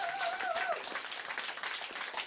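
A dense crowd applauding a live band at an outdoor showcase in Chur, steady clapping throughout with a few whistles early on.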